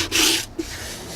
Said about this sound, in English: Just get a very light sanding across here.